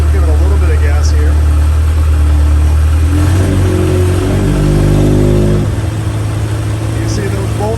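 An Aeromomentum AM15h aircraft engine in a Sonex-B runs up from a steady idle as the throttle opens, the drone rising in pitch for a few seconds before settling back to idle, loud and close throughout.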